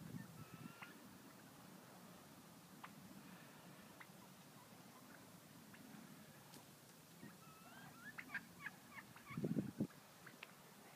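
Faint, distant wild turkey gobbles and short calls scattered over a quiet outdoor background on a golf course, with a louder burst of gobbling near the end.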